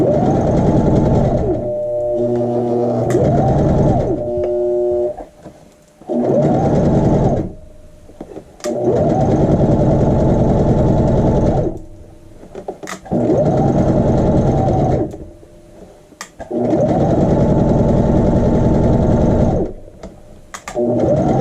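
A sewing machine stitches the back rise of a child's shorts in five or six loud, close bursts of rapid whirring, each lasting a few seconds and separated by short quiet pauses.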